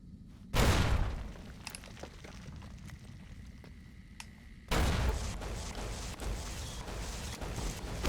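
In Fallout: New Vegas, a sharp grenade blast hits first. A quieter stretch with scattered faint pops follows, then a second loud burst of explosive gunfire and rumbling that carries on to the end.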